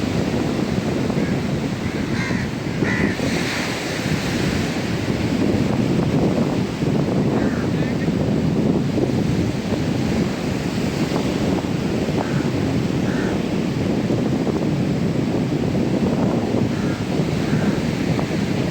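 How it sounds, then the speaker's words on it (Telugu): Steady roar of sea waves with heavy wind rumble, constant and loud throughout. "సముద్ర ఘోష సాగర ఘోష"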